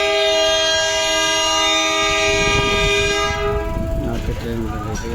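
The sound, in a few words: train passing with horn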